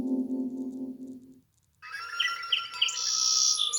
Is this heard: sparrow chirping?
yes